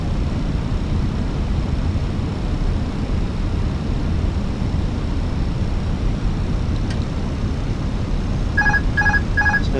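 Three short repeated electronic chimes sound near the end: the autopilot disconnect alert in a Fenix A321 airliner in MSFS 2020, over a steady loud cockpit and engine drone.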